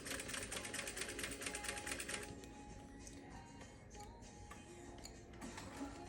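Juki 8100e sewing machine quilting a row with Organ 16 needle and tex 40 thread, a steady rapid needle chatter that runs fast for two seconds, then slows to a softer, sparser ticking, with no talk.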